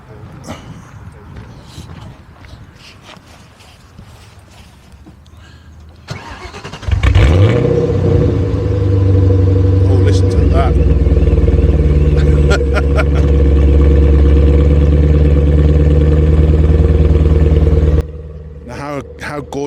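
American V8 in a supercharged Roush-built MG Rover 75 cranks and fires after some quiet talk, then settles into a loud, deep, steady burbling idle close by for about ten seconds before cutting off, with voices around it.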